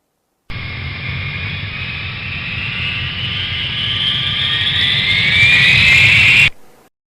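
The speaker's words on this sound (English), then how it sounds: "plane," A jet airplane passes steadily with a loud, continuous roar that builds gradually over about six seconds, its rising whine growing louder before cutting off abruptly.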